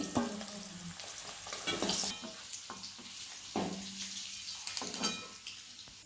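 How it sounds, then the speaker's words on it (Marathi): Eggs fry in oil in a pan with a soft continuous sizzle, broken by several scraping stirs of a spatula, close by and fairly quiet, with no voices. "अंडी बघा पहिल्यांदा अशी चांगली तेलात भाजून घ्यायची"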